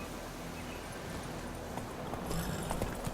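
Horse hooves clip-clop steadily in The Witcher 3, a continuous muffled rhythm under a layer of ambient game noise that grows slightly busier near the end.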